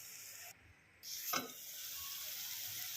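Tomato prawn curry sizzles in oil in a pan, giving a steady, close, bright hiss that dips for a moment, then comes back with a short burst of stirring.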